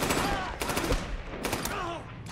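Gunfire from the 2014 action movie John Wick, a dense loud fusillade of rapid shots and blasts running almost nonstop, with faint voices mixed under the barrage.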